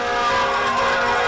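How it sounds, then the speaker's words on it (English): A loud, sustained siren wail in downtown Helena during a championship victory celebration, steady and tonal, filling the space with a constant blaring tone. "and sirens filled the air of downtown Helena"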